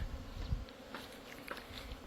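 Honey bees swarm in the air around a tree, a steady buzzing drone with no voices over it. Low rumbles, likely wind, run underneath.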